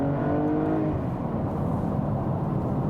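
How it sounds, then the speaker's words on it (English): A Porsche Cayenne S accelerates inside a tunnel, its engine note rising in pitch at the start and then holding as a loud, booming roar that reverberates off the walls, heard from inside the car. "Let's drop down in speed a little and accelerate, that we can hear the sound in the tunnel."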